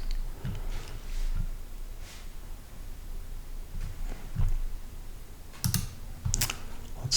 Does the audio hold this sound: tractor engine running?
no